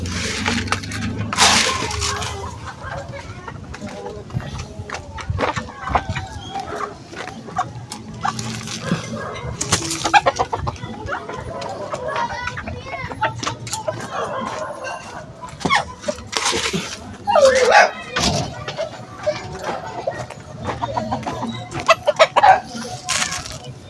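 Backyard chickens cluck and call while being fed, with a rooster crowing and a dog barking at times, in a busy outdoor setting.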